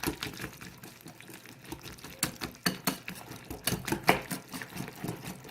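A spoon stirs a creamy veggie dip sweetened with sugar in a bowl, making a run of soft wet scrapes and light clinks that grow steadier and more rhythmic, close and fairly quiet.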